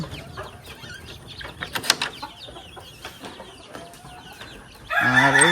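Native chickens and young roosters on a backyard poultry farm, scattered clucks and soft calls close by with some rustling and wing flaps, then a loud rooster crow rising at the very end, with no talk.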